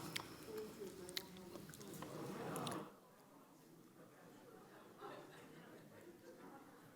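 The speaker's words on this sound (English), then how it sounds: "Chewing, we're chewing and we're reflecting." Close, soft squishy chewing of jelly beans, with people chuckling and chattering in the background; the mouth sounds are clearer in the first few seconds, then fainter.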